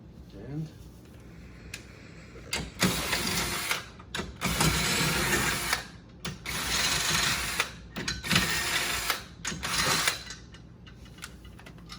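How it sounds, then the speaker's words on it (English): Pinball machine legs are screwed back onto the cabinet during takedown of an early solid-state game, with loud, close bursts of ratcheting tool noise broken by short pauses. A voice speaks over part of it. "Screw these back down so you don't lose them."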